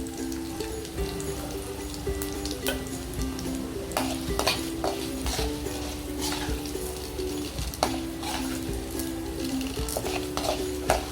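Cumin seeds and asafoetida frying in hot oil for spicy paniyaram, a continuous crackling sizzle with scattered pops and occasional spoon clinks over a low steady tone, no voices.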